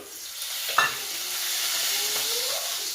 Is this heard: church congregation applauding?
no